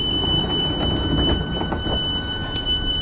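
A ScotRail train on the Strathclyde network pulls into a station with a steady rumbling roar and a thin high whine held throughout, loud and close, with no talking.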